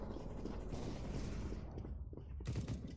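Gunfire from a weapon in Counter-Strike: Global Offensive, a dense run of rapid shots that sounds fairly faint and distant, continuing for a few seconds with a brief dip before resuming.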